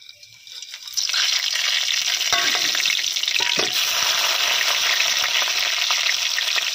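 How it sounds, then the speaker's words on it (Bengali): Cumin, cardamom, cinnamon, cloves and black pepper hit hot oil in a kadai, bursting into a loud, steady close-up sizzle after a quiet start, with occasional stirring scrapes. "কড়ার মধ্যে তেল গরম হয়ে গেছে। প্রথমে জিরে, এলাচ, দারচিনি এবং লবঙ্গ, গোলমরিচ একসাথে ভেজে নেব।"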